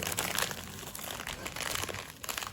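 Bubble-wrap-padded parcel holding a windshield camera mount being unwrapped, with steady close crinkling and crumpling of plastic and tape throughout, alone without talk.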